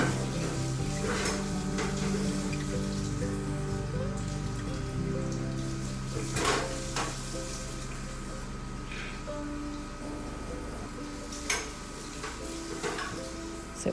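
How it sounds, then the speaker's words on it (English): Water rinses through milking machine cups and lines on a dairy setup used for two cows: a steady close splashing rush with a faint mechanical hum under it and a few louder spurts. "So each cup, each line gets a good rinse."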